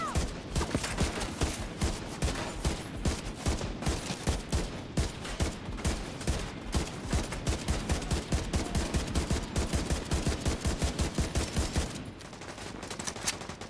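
Sustained light machine gun fire in The Division, a steady rapid stream of loud shots running unbroken for about twelve seconds before tapering off.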